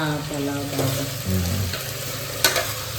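Beetroot palav stirred and mixed in a sizzling pan, with scraping strokes over a continuous frying hiss, close and fairly loud.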